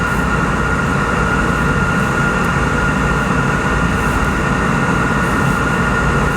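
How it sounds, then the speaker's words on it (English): A train rumbles past close by in a loud, continuous roar with a steady rolling drone that holds for several seconds, and no one is talking. "Maybe I could just tune out the trains, but I can't at the moment."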